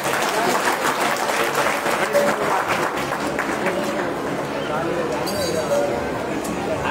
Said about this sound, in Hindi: इनके लिए जोरदार ताली हो जाओ।